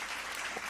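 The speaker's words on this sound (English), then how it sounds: "the clapping, well, the clapping will continue" Steady dense applause from a crowd, fairly faint and distant, continuous throughout the short stretch with no voices rising above it.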